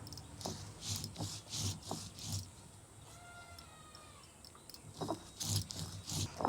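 Mustard and poppy seeds are ground together on a stone for an ilish fish dish. The strokes are close and repeat, with a rough rubbing scrape back and forth and a short quieter pause in the middle. Nobody speaks.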